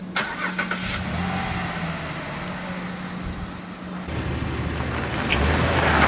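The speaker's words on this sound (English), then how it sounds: "So we're going to test and see if it works if once we run it over with the car." Car engine idling and moving slowly as it rolls over a Tippmann paintball gun, a steady mid-pitched engine hum with a low tone that shifts partway through, and the engine growing slightly louder toward the end.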